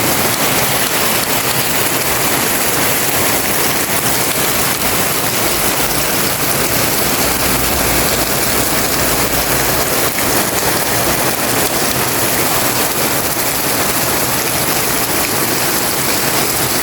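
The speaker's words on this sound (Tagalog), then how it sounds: "Ang lakas po ng ulan." Heavy rain pours steadily onto a surface, a dense, loud, unbroken hiss and patter filling the whole stretch with no voices.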